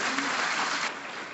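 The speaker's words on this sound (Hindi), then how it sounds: "ताली बजनी चाहिए, नहीं बजनी चाहिए?" A crowd at a Constitution Day rally in Delhi breaks into applause, a short, loud, dense burst of many hands clapping together with no talk on top.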